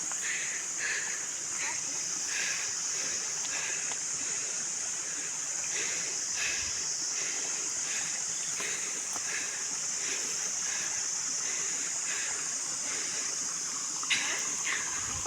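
A river in Pauri Garhwal flows with a constant rushing hiss. Softer pulsing swells recur through it at a steady, fairly close level.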